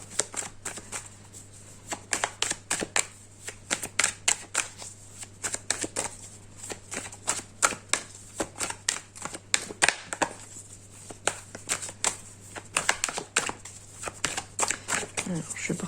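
Tarot cards shuffled by hand in a long run of quick riffling bursts and soft slaps, close and steady, with a voice talking over parts of it.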